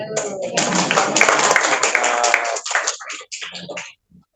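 Clapping from a group at a Christmas service gathering, a burst of many hands that thins into scattered claps and fades out, with some voices mixed in.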